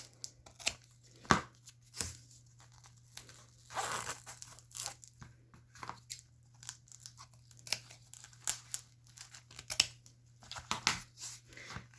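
Scissors snip through the end of a Velcro strip used on a handmade dog hunting vest, giving quiet, close, irregular crisp cuts and rustles with short pauses between them.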